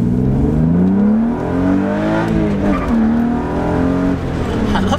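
A BMW E36 M3 accelerates hard with a short tire chirp, the engine loud and near, rising in pitch, dropping at shifts and climbing again over several seconds.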